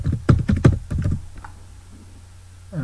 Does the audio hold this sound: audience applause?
no